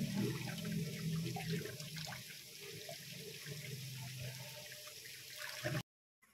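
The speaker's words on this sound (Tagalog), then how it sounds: "huhugasan natin ito sa running water." Cassava is rinsed under a running tap, giving a continuous close rush of water with gentle splashing and sloshing for several seconds before the sound cuts off abruptly; no talking.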